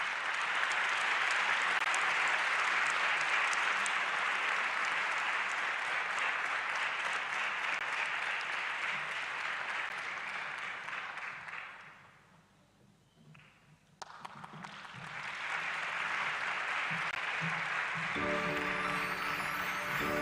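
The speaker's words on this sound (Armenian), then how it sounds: "մի հատ խնդրում ավելի բուրըն ծափահարությունով ճանապարհենք բանախոսներին" Applause from an audience at the opening of a national youth conference, a loud sustained wash of clapping that dips briefly near the middle, then swells back and carries on to the end.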